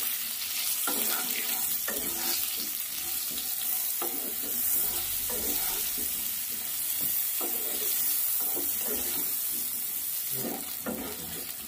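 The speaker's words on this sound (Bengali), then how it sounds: "হলুদ দিচ্ছি, লবণ দিচ্ছি, ভালো করে আলুটা ভেজে নেব।" Diced potatoes with turmeric and salt fry in a pan in a home kitchen, with a steady hot sizzle and repeated scraping stirs of the spatula across the pan, no voices.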